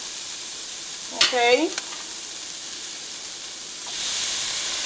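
Fresh cut tomatoes sizzling in a pot of cooked, translucent vegetables, a steady hiss and fry that swells louder near the end, with a brief spoken word early on.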